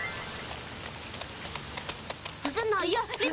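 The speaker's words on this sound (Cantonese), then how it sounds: "呢排成日都落大雨嘅" Heavy rain falling steadily in the city, a dense, close hiss of drops that continues throughout while a voice starts talking over it near the end.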